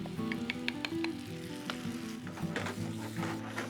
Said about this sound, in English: our onions and our garlic are beautifully kind of frying up a little bit